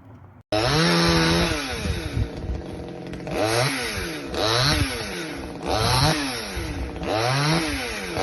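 A PROYAMA 62cc two-stroke gas chainsaw cuts into a large tree, loud and close, surging through five or six repeated revs as the blade bites the wood, with no talk.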